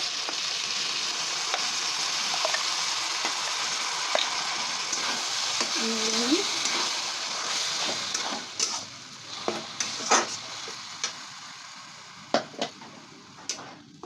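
A paste of bottle gourd and pea peels fries with prawns in a pan, giving a steady close sizzle, then scattered scraping and clinking stirring strokes that grow more frequent toward the end.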